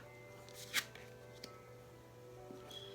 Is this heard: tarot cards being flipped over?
yes